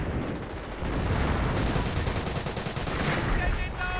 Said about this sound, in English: one actually got killed right there by the flak artillery